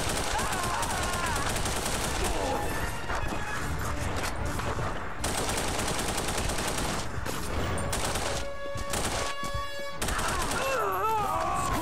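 Sustained gunfire in The Punisher on the original Xbox, dense overlapping shots and bursts running loud throughout, mixed with game music and effects, with a brief quieter break near the end.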